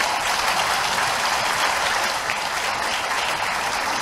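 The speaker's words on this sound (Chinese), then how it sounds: "我们是不是给他们一个大大的掌声？" Dense, sustained applause from an audience at a ceremony marking completion of an offshore wind farm, loud and even for its full length with no pauses or voices.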